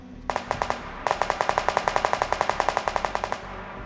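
Machine gun fire in PUBG Lite: a short burst of several shots, a brief gap, then a long steady stream of evenly spaced rapid rounds, loud and close, with no talk over it.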